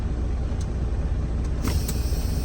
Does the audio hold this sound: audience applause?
no